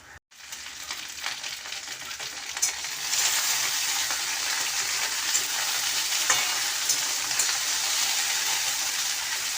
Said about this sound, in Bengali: এবার ঢ্যাঁড়সের তরকারিটাও করব বলে কড়ার মধ্যে ছেড়ে দিয়েছি, ওর মধ্যে কষছি